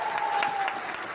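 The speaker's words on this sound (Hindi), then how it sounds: "एक बार जोरदार ताली हो जाए" Audience clapping at a business celebration program in India, a brief dense burst of applause from a crowd, loud and close, lasting about a second.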